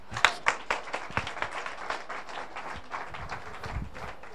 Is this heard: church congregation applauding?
yes